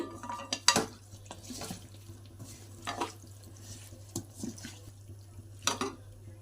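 Mutton is stirred with ginger garlic paste and salt in a metal pot, giving a few distinct scraping clinks and soft wet shuffles against a low steady hum.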